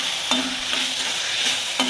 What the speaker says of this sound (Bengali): দিয়ে আবার আমি কষাতে থাকবো।